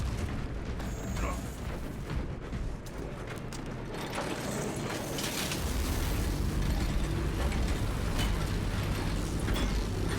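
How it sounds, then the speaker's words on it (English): Heroic bolt pistol firing in a Space Marine video game, a run of heavy booming shots and mechanical clatter over a dense rumbling battle backdrop, loud and close, with game voices mixed in. "The new heroic bolt pistol sound effect sounds really cool."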